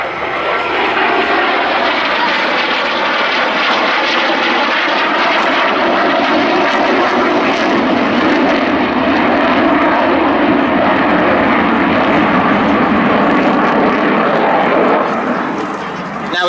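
An aircraft engine roars loud and close during an air display flypast at Duxford, a sustained, full-bodied rumble lasting throughout.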